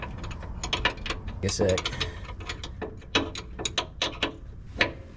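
A wrench ratchets and clicks in short bursts while tightening a fitting on a Mazda Miata, close up, with a brief spoken word partway through.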